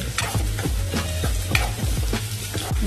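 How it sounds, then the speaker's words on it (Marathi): Green chillies sauté in a pan of hot oil for a traditional leafy vegetable dish, with a steady sizzle and the rhythmic scrape of a spoon stirring several times, close up, with no voices. "मिरची छान आपल्याला परतून घ्यायची आहे"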